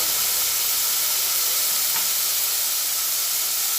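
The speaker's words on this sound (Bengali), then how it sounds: "এটা একটু ভেজে নিচ্ছি" Soaked ghugni peas frying in a pan for chicken ghugni, giving off a steady, even sizzling hiss from start to finish with no voices.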